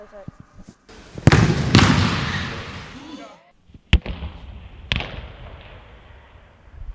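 A basketball shot in a gym: sharp bounces and a loud impact, then a few more thuds, with a voice and crowd noise and room echo throughout.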